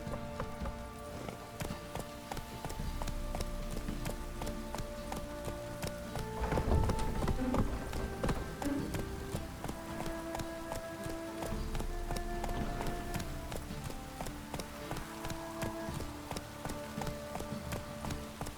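Horse hooves clip-clopping in a steady gallop through The Witcher 3: Wild Hunt, a continuous rhythmic drumming of hoofbeats over a sustained musical score, louder for a stretch midway.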